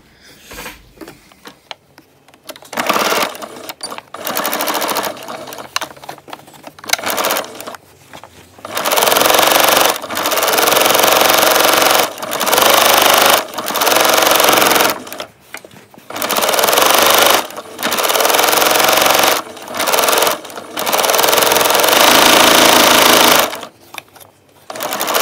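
A sewing machine stitches a collar on a shirt sewn from bed sheets, running in long rapid whirring bursts separated by short pauses, close and loud.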